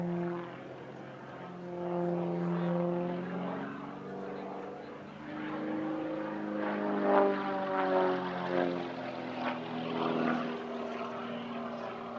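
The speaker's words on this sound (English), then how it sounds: "Extra 300S is the basic single-seat version of the Extra 300." Extra 300S single-seat aerobatic propeller plane at an airshow, its engine drone rising and falling in pitch as it manoeuvres, moderately loud and continuous, with a voice talking faintly underneath.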